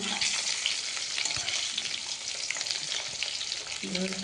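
Egg and onion fritters frying in hot, smoking oil make a continuous, dense sizzle and hiss from start to finish, close and fairly even in loudness.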